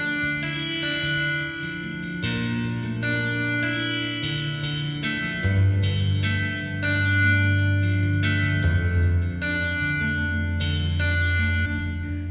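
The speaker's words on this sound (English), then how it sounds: "So you can hear there way too much reverb" A sustained electric guitar line drenched in heavy reverb, notes ringing and washing into each other, with a steady low drone underneath.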